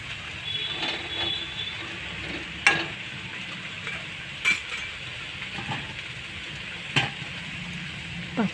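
Eggplant frying with mustard paste, turmeric and a pinch of sugar in a pan, a soft steady sizzle with occasional sharp clinks of a spoon stirring against the metal.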